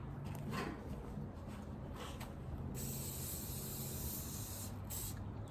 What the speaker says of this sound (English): You're gonna wanna spray the inside of it with some oil.